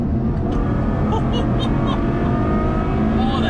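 Ferrari GTC4 Lusso with V12 engine driven hard with stability control off, engine note loud and continuous throughout with a steady roar and rising tones over road noise.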